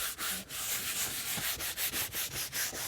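A brush gently scrubbing a leather car seat with light foaming cleaner, close, soft rhythmic swishing strokes repeating in quick succession.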